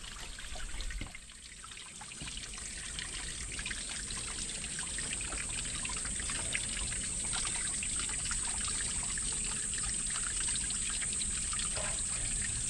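Mountain spring water trickles steadily among the rocks at a hillside fort, a continuous close, gentle flow heard alone without pause.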